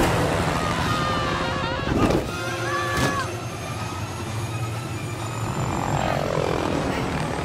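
A helicopter's engine and rotor drone steadily throughout in Lego The Incredibles, with sharp game effects and busy action noise layered over it.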